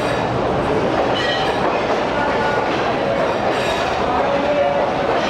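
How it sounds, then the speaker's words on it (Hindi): The Pakistan Express rolls into a station in Pakistan with a loud, steady rumble and clattering of wheels and carriages close by, a continuous roar that fills the whole stretch. "ये आ गई 45 अब पाकिस्तान एक्सप्रेस, जिसको रानीपुर रियासत पे हमने ओवरटेक किया था। फाइनली पहुंच गई है इधर।"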